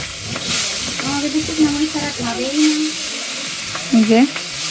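Meat frying in a pan with stirring and a steady sizzle, close by in a home kitchen, with utensil scrapes and bubbling; faint voices murmur in the background.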